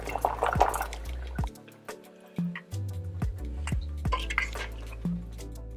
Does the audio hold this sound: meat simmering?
yes